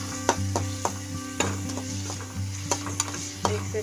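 Coriander powder and garam masala frying in a pan, with a steady low sizzle under a background hum and sharp rhythmic scrapes and taps of a spoon stirring.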